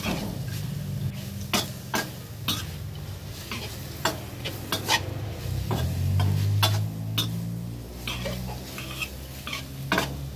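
Frog and vegetables stir-fry in a pan, with sharp metal spatula clanks striking the pan in an irregular rhythm over a steady sizzle, close and fairly loud.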